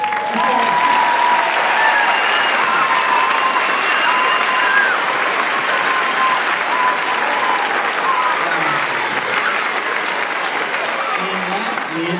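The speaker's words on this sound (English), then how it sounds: "did we clap for everybody yet, or do we still need to clap?" Audience applause at a school concert fills the room with steady, dense clapping from a large crowd for over twelve seconds, with a few cheers and voices mixed in.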